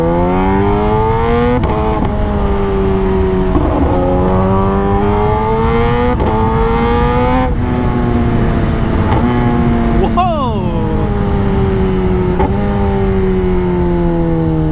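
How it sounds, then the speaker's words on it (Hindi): A Kawasaki Ninja ZX-10R sport motorcycle engine revs steadily, with quick crisp quick-shifter gear changes and auto-blipper throttle blips between shifts, loud and close throughout. "सुना साउंड, सुना आप लोगों ने, मतलब क्विक शिफ्टर एंड ऑटो ब्लीपर का"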